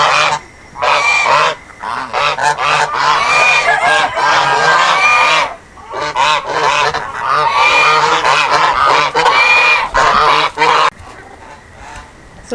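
A flock of geese honking loudly as they pass by a farm garden, dense overlapping nasal honks in continuous bursts with a couple of short gaps, close and fading at the end.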